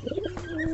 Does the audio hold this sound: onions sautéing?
no